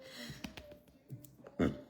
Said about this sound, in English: Sorry, I burped. I have to burp again.